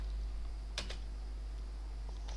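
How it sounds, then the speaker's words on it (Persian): A computer keyboard gives a few quick, faint key clicks in a short burst over a steady low hum. "حالا میتونم نامه خودم رو تایپ کنم"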